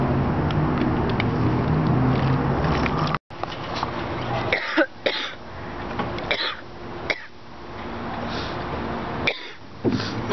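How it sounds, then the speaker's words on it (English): Repeated bursts of coughing after swallowing cinnamon, several harsh hacks spaced irregularly, close up over a low background hum. "I'm still coughing."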